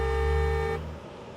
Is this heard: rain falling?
no